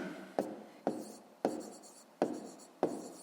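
A pen writes the answer to a fifth-grade math exercise, five short scratchy strokes at an even pace, close and alone.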